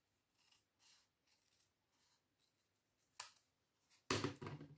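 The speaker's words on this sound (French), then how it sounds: "Il suffit simplement de prendre ses ciseaux." Scissors snip paper in a series of short, soft cuts, ending with a few louder, closer crisp snips.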